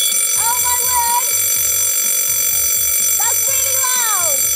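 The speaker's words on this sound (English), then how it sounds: "we have got these fire alarms. So these are each 95 decibels." A 95-decibel fire alarm rings loud and continuous with a piercing steady tone, accompanied by warbling sweeps and voices talking underneath, part of a homemade alarm clock build.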